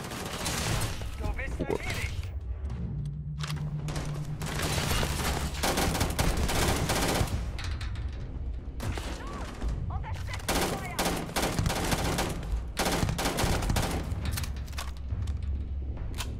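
Maelstrom ballistic gun firing in Starfield, repeated bursts of rapid gunshots separated by short pauses, loud and close, with a man's brief exclamation in German over the shooting.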